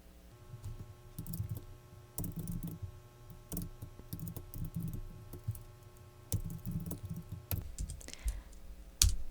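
Computer keyboard typing and mouse clicking during 3D garment pattern work in CLO software, with steady irregular keystrokes and sharp clicks close up, continuing alone for several seconds.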